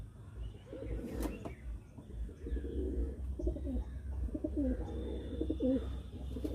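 Pigeons cooing in a backyard coop, several soft throaty coo phrases repeating over low background rumble, close and moderately loud, no talking.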